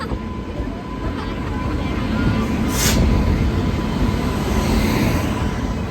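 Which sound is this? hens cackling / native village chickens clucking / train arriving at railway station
train arriving at railway station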